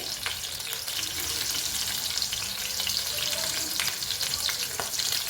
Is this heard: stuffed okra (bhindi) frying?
yes